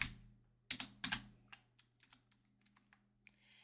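Close, quiet typing on a computer keyboard, a few sharp keystrokes followed by a sparse run of lighter taps over a faint steady hum.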